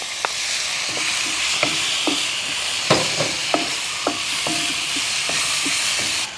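Two chopped tomatoes fry in a pan with toasted spice powders for chole, a steady close sizzle broken by repeated metallic spoon taps and scrapes as they are stirred, no voices.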